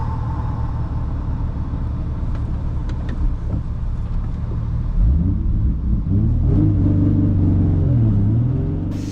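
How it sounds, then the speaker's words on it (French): A Nissan 350Z drift car sets off on a track during a drift competition qualifying, its engine rumbling steadily and then rising in pitch as it accelerates, loud and fairly close, with no talk over it. "Et monsieur Décimose qui s'élance au volant de sa 350Z"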